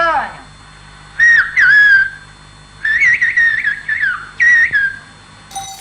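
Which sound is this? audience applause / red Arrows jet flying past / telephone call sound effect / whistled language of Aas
whistled language of Aas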